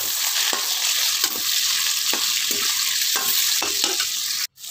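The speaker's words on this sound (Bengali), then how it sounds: "আলুগুলো ডুমো ডুমো করে কেটে দিয়ে ছাকা তেলে ফ্রাই করে নিচ্ছি।" Diced potatoes deep-fry in hot oil, a loud, close, continuous sizzle with a few brief stirring bumps and no talking.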